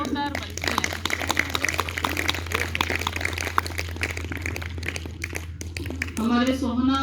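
Enthusiastic audience applause at a gathering: a dense, steady patter of many hands clapping for about six seconds, then a voice resumes speaking.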